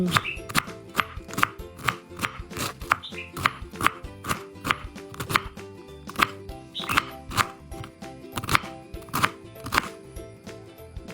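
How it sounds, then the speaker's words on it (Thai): A knife chops steadily through cabbage on a cutting board, a brisk, even rhythm of sharp thuds, close and clear with no voices. "นำกระหล่ำปลีมาหั่น"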